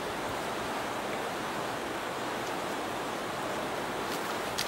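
Water of a river rushing steadily past a rocky bank, a continuous broadband wash of flow and splashing, close and even throughout.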